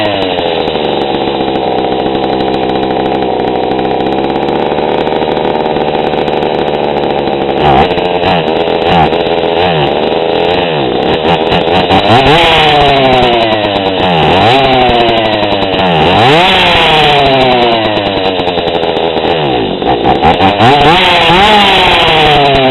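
A small two-stroke engine runs too lean after a carburetor adjustment, idling steadily and then revving up and down repeatedly, its loud buzzing pitch climbing and sagging as it bogs.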